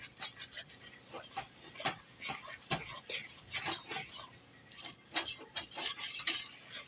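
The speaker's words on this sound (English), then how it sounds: "Stir them in." Spice cake batter from a 1920s recipe stirred by hand with a wooden spoon, the spoon scraping and knocking against the bowl in an irregular rhythm of close, soft strokes.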